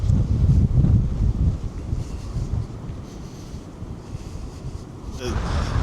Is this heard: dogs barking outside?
no